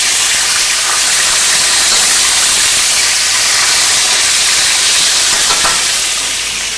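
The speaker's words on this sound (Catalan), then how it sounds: "Anem a girar les cues de rap." Monkfish tails sizzle in a hot pan as they are turned, a loud, steady frying hiss filling the whole stretch with no voices.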